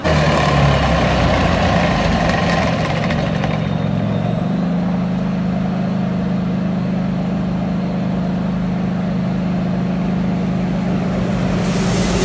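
Military vehicles pull up and stop, with a loud heavy engine rumble close by that shifts from driving to a steady deep idle, and no talk over it.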